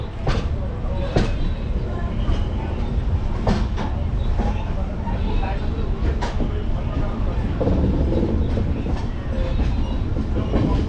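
A passenger train from Puri to Kolkata runs at speed with a loud, close, steady rumble and rhythmic clickety-clack of wheels over rail joints, and faint voices mingle in the background.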